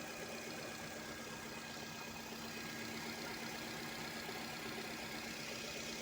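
A used car engine idles smoothly and steadily from start to finish, a constant, even hum with no speech over it.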